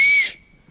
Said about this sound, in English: And you got yourself a nice whistle.